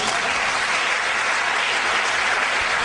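Steady, dense applause from a church congregation during an evangelical sermon, loud and close, filling the whole stretch without letting up and with no voice over it.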